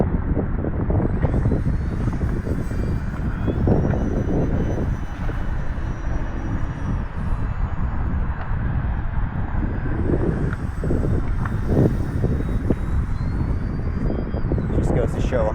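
An E-flite Commander MPD 1.4 m RC plane flies without stabilization, its motor a steady, continuous drone under heavy wind buffeting throughout.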